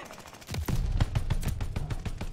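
A semi-automatic gun in Call of Duty Vanguard fires a steady series of close, punchy shots at a fairly slow, even rhythm, about ten in quick succession.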